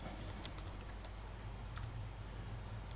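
Rapid typing on a computer keyboard while installing Debian Linux, with steady close clicks and clatter over a constant low hum, no voices.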